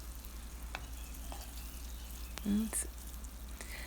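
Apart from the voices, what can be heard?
seitan frying in a pan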